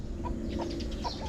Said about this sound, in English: See, she calls them in chicken talk.